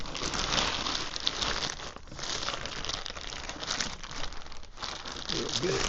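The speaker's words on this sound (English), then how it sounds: "Get it out of its plastic bag here." A plastic bag around a Typhur Dome 2 air fryer crinkles and rustles loudly and continuously up close during unboxing, with brief pauses in the handling.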